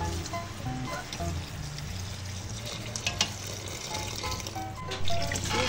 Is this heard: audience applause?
no